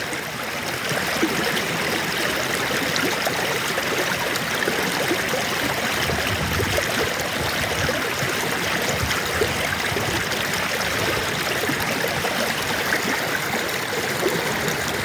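Water rushes steadily in a stream, a dense, continuous gurgling roar with no pauses.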